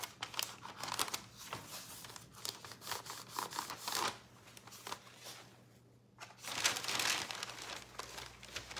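Paper being creased by hand on a clipboard craft project, dry crinkling and rustling in irregular bursts with a short quiet gap, close and soft, no talk.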